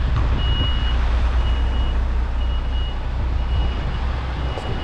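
A delivery truck reversing onto a loading bay sounds a regular series of high reversing beeps over a loud, constant engine rumble close by.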